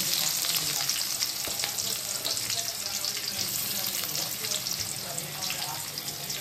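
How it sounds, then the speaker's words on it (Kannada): Mustard seeds, curry leaves and finely chopped onion sizzle and crackle in hot oil for a South Indian tempering, a continuous close frying hiss with occasional stirring clatter. "ಇದು ಒಗ್ಗರಣೆ"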